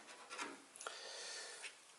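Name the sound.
popsicle stick working lubricant into keyboard stabilizer socket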